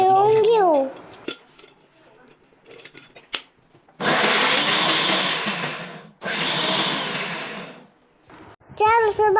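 A kitchen mixer grinder whirs loudly in two bursts of several seconds each, grinding bread into crumbs. Brief clatter and a speaking voice come before and after, with a short pause between bursts.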